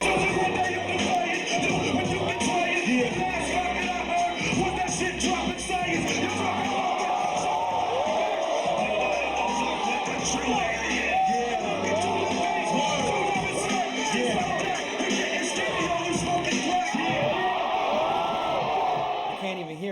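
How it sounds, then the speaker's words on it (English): A dense crowd at a freestyle rap battle yells, whoops and cheers without a break, loud and continuous, with voices mixed into the roar. "people are screaming in the crowd"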